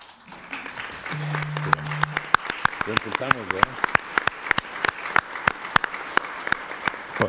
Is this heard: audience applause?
yes